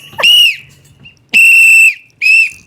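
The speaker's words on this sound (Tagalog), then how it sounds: "Kuya, bakit ganun ang pito mo? Parang sa referee na tsaka." A whistle blown in three sharp, loud blasts like a referee's call, each shrill and piercing, separated by short pauses, with no talking over it.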